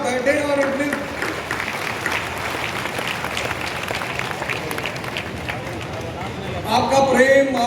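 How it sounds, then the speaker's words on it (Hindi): A seated crowd at an outdoor gathering in the heat breaks into sustained, dense applause that runs steadily for several seconds, loud and close, with a voice coming in over the clapping near the end. "एक बार मैं चाहूंगा कि आप सारे लोग अपने लिए ताली बजाएं"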